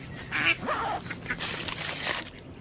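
Ducks quacking outdoors in a radio drama scene, a few close nasal quacks and honks in a short burst over a murmuring background.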